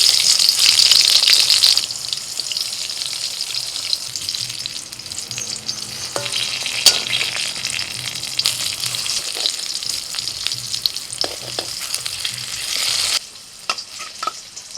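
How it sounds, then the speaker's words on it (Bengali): Round eggplant slices rubbed with salt and turmeric fry in hot oil, giving a loud, steady sizzle with crackling bursts and occasional scraping stirs, the sound dropping away sharply near the end. "গোল গোল বেগুন ভাজা।"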